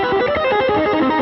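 A distorted electric guitar plays a quick run of single notes, thick and buzzing with sustain, loud and close with no voices.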